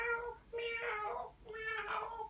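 A voice mimics a cat with three drawn-out, wavering meows in a row, close and fairly quiet.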